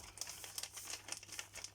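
Paper crinkles and crumples in quick, irregular bursts as an advent calendar gift is unwrapped, close and fairly soft, with no talk.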